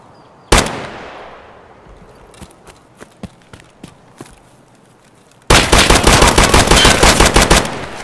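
Gunfire in the video game Escape From Tarkov: one loud shot, then scattered single cracks, and a dense rapid burst of automatic fire near the end.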